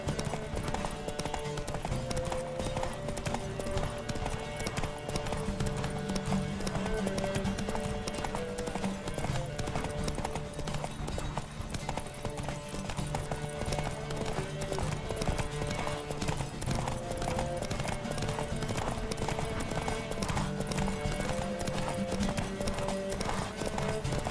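Horse hooves gallop in a fast, continuous rhythmic clatter during a horse race in The Witcher 3: Wild Hunt, close and steady, with a faint whinny and some background voices underneath.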